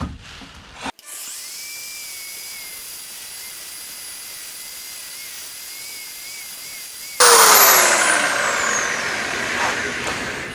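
Steel bars having rust stripped off with a power tool: a steady high whine runs for several seconds, then a louder, harsher grinding burst takes over as the tool bites into the metal, close and without talk.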